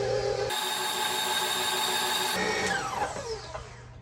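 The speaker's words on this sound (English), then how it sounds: "I'm gonna let this start mixing because that cream cheese was kind of cold" An electric mixer beats cold cream cheese in a bowl, a loud, steady whirring motor drone running alone, with its pitch and texture shifting toward the end.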